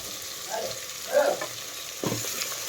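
Carrots and potatoes frying in a pan with cauliflower for vegetable biryani, a soft steady sizzle with a couple of brief scraping stir strokes, close and without talking.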